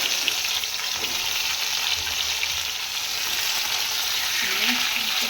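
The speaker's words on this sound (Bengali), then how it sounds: "এবার এই ইঁচড়টাকে ভেজে নেই।" Green jackfruit frying in hot oil in a pan, with a steady, loud, continuous sizzle and crackle throughout and occasional faint stirring scrapes, no voices.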